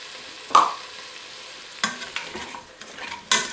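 Artichoke pieces sizzle and are stirred in a pan for a chickpea and prawn stew, with a few sharp scraping stir strokes over a steady low frying hiss, close and fairly quiet.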